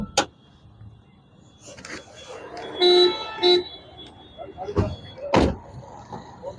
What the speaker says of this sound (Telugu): హారన్ కూడా వర్కింగ్ లో ఉందండి.